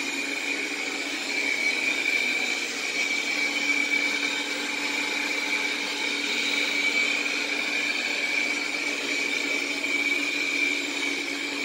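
A Roidmi Eve Plus robot vacuum cleaner runs with a steady, loud motor whine and airy suction hum, unchanging and close throughout.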